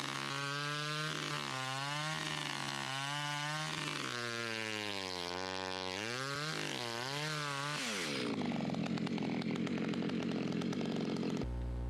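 A donated chainsaw with an uncertain engine runs close and loud, its two-stroke motor revving up and down in repeated swells before settling into a high, rough buzzing drone near the end.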